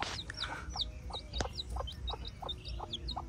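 A hen clucks in a series of short, repeated calls at a steady rhythm, fairly close, over a low background rumble among other farm birds.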